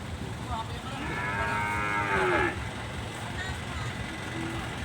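Cattle low at a Thai livestock market, one long, loud, wavering moo rising near the middle over a steady crowd and traffic hum, with voices talking throughout.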